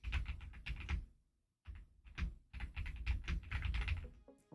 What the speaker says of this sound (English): the typing you hear